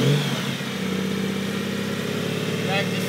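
A gray 2005 Honda Goldwing GL1800A motorcycle engine drops through the gears, a steady mid-pitched hum running close and fairly loud with slight shifts in tone and no pauses.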